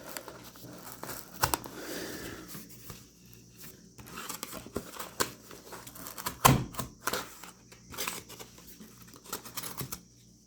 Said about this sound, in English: Now let's go to downward cut.